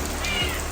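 A cat gives a single short meow close by, set against the steady patter of heavy rain falling outdoors.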